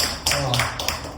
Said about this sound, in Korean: 와, 박수 한번 해주세요